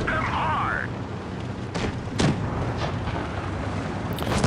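Tank shells strike a T29 heavy tank in World of Tanks: a couple of sharp, heavy impacts, one markedly louder, rising over a steady rumbling engine and battle backdrop.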